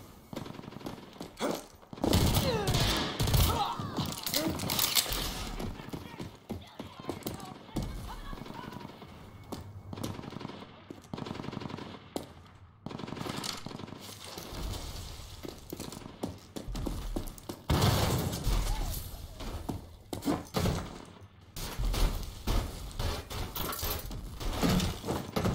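Repeated automatic and single gunfire in the video game Rage 2, loud bursts and rapid volleys spread across the stretch with brief lulls and occasional impacts.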